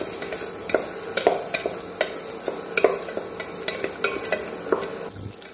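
Ingredients for green peas pulao frying in a pan over a medium flame, with a steady soft sizzle broken by repeated spatula scrapes and taps, close and alone.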